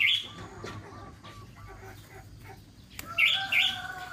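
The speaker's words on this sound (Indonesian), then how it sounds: "Ini adalah burung merpati." A pigeon calls with short, high chirping notes: a brief burst at the start, then a couple of brighter calls near the end, moderately close over a soft, low background hum.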